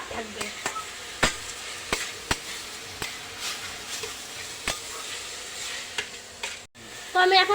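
Onion, garlic, ginger and green chili sizzle steadily in a pan for momo filling, with a spoon scraping and tapping the pan at regular intervals, loud and close, ending in a burst of stronger frying.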